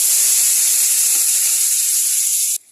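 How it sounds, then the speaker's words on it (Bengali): Chopped tomato and slit green chilies sizzle loudly and steadily in hot frying oil for a spicy Bengali fish curry. The hiss cuts off abruptly just before the end. "এবারে এই ভাজা তেলের মধ্যে আমি দিয়ে দেবো"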